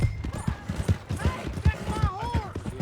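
Horse galloping in Red Dead Redemption 2, rhythmic hoofbeats pounding steadily up close, with a whinny and voices talking over the run.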